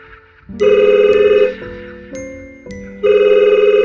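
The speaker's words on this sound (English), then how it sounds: "After a while, the phone rings." A telephone rings in repeated loud, tonal electronic bursts with brief pauses between them, clear and close, alone without speech.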